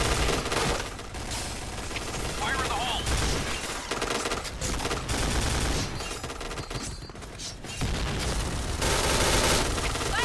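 Rapid bursts of machine gun fire in a video game, an MK.46, rattle almost nonstop, loud and dense, with brief gaps and occasional booms mixed in.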